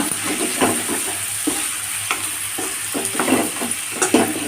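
Chopped tomatoes sizzle in a hot pan for chicken curry as a spoon stirs them, with a steady frying hiss broken by several scraping strokes against the pan.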